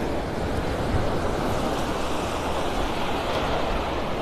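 Ocean surf rolls onto a beach in North Naples, Florida, a steady, dense wash of breaking waves with some wind noise, continuous and close, with no talk.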